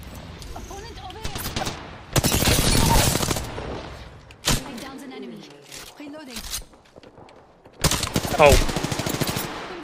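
Bursts of automatic gunfire in the battle royale shooter Apex Legends, two loud rapid volleys separated by scattered single shots and quieter gaps, with a player speaking briefly between them.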